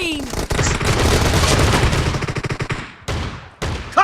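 Shotgun blasts in the mobile battle game BGMI during a team deathmatch, several loud close bursts of gunfire with short gaps, mixed with synthetic in-game voice callouts.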